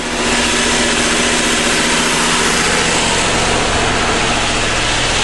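Engine of a 1981 motorhome idling as it warms up, a loud, close, steady rumble that holds constant throughout without revving or voices.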